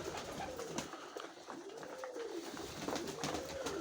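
Pigeons cooing softly in repeated rising and falling calls, over a constant background hum.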